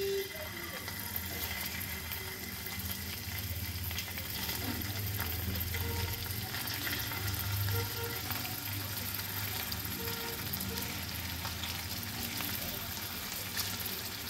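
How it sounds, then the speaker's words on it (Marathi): Paneer frying in a hot kadhai, giving off a steady, fairly quiet sizzle that continues unbroken throughout, with faint kitchen noises under it. "कढई आपली तापलेली आहे, त्यामध्ये आपण पनीर तळून घ्यायचे।"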